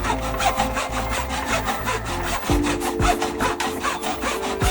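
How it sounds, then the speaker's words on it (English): A scrap piece of wood being sawn in half by hand, with steady rhythmic back-and-forth strokes, close and fairly loud, and no talking. "I found this scrap piece of wood in my garage, which was the perfect depth for the picture. I just had to cut it in half"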